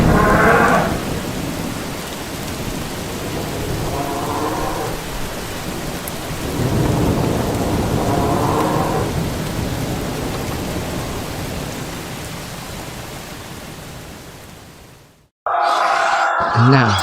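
Heavy rain pours down steadily with deep rolls of thunder rumbling underneath, loud and enveloping, while a voice talks over the storm and a sharp break cuts in near the end.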